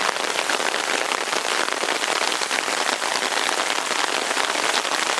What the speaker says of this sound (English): Obviously we have a very hard rain right now